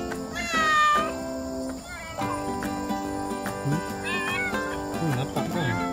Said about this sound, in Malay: Banyak kucing.